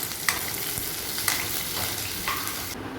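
Onion and ginger-garlic paste fry in hot oil in a wok, giving a continuous close sizzle with a few soft scraping stirs on top, steady and moderately quiet, with no voices.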